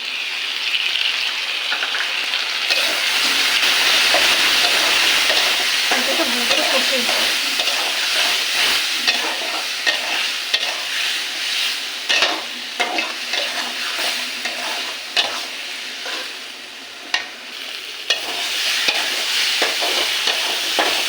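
Spices for a lentil fritter curry fry and get stirred in a pan, a loud continuous sizzle with frequent scraping strokes and knocks of the spatula throughout.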